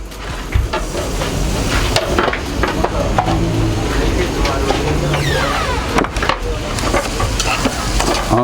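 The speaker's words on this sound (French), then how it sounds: "On remue, fait bien griller nos currys." Rice and curry are stirred and toasted in a pan, a steady sizzle with repeated scraping and clinking of a utensil against the pan, close and fairly loud.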